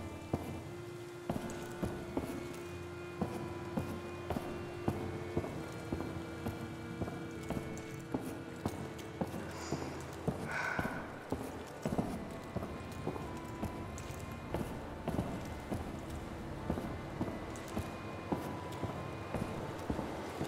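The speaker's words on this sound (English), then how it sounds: "I can hear your footsteps." Regular footsteps echo through a dark facility in the video game Paradise Lost, a steady walking rhythm over an ambient game score, moderately loud and continuous throughout.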